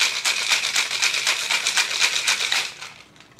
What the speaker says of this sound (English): take my shaking tin, dump that right in, take my glass, insert that in, give it a good shake